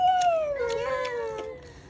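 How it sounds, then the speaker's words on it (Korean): A cat gives one drawn-out, wavering meow that slides downward and fades, close and fairly clear, with no talk. "고양이"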